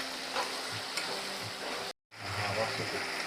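Ginger garlic paste sautéing in a hot pan, a steady close sizzle with light stirring scrapes, cut by a brief silent gap midway before the frying resumes.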